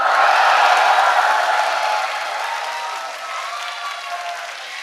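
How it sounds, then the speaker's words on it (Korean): A church congregation at a Korean festival service erupts in loud, sustained shouting and cheering that swells at once and slowly tapers off, with no talking. "제가 그리스 말로 외칠 때 한번 함성을 질러보시면 어떨까요?"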